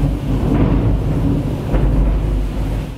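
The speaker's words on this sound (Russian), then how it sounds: "испугалась грома" Deep rumbling thunder rolls through a storm, with steady low roar and faint rain noise filling the whole stretch, loud and continuous with a couple of swelling peaks.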